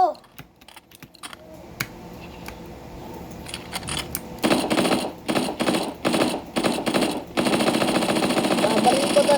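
Rapid video game gunfire rattles in repeated bursts, with a steady dense stretch at the end, loud and close, while someone talks excitedly over it.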